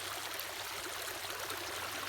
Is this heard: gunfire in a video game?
no